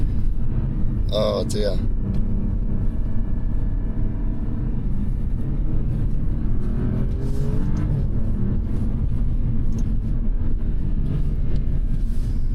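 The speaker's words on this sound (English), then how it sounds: "Oh, that downshift." A 2023 Alfa Romeo Giulia Quadrifoglio on a track drones with a loud, low engine rumble inside the cabin, a brief sharp blip near the start marking a downshift, while someone speaks briefly.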